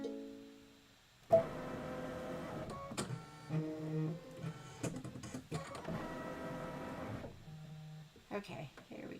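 A quilting sewing machine's thread-cutting mechanism clicks and whirs in a few quick mechanical bursts, each stopping and starting, with a person talking over them throughout.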